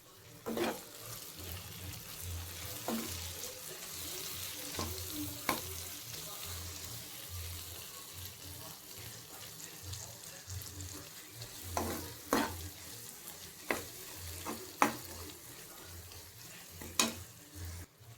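Capsicum fry seasoned with chili powder and turmeric is stirred in a pan, giving soft scraping and clinking strokes over a low, steady sizzle.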